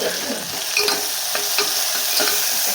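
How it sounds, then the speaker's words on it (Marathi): Onion frying in oil and being stirred, a steady close sizzle broken by repeated scraping strokes of the spoon, with no talking. "कांदा हा आपल्याला छान तेलामध्ये भाजून घ्यायचा."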